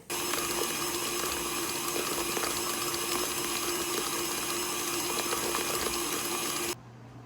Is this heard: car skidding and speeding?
no